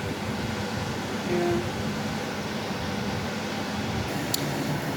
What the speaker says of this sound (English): Sorry about the noise, it's the extractor.